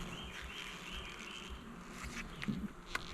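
Honeybees buzzing around an opened beehive during a hive check, a faint continuous hum with a few louder passes near the end.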